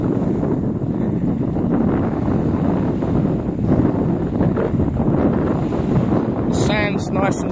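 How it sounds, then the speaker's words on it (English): Warm wind on a beach at Caleta de Fuste in Fuerteventura buffets the microphone in a loud, continuous rush, and someone talks through it. "The wind here, but the wind's nice and warm"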